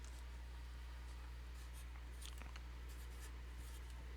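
Writing on a board during a linear algebra lecture: faint, scattered scratching strokes over a steady low room hum, with no speech.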